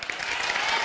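Studio audience applause on a Turkish talk show, heard as a brief, steady wash of clapping at moderate distance.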